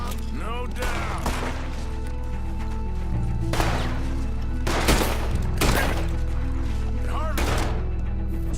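Gunfire in a Red Dead Redemption 2 night raid cracks out in loud bursts, several volleys spaced a second or two apart over a low steady rumble, with faint game music beneath.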